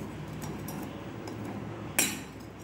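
A spoon stirs rava sweet through sugar syrup in a pan, a soft continuous scraping that ends in one sharp metallic clink near the end.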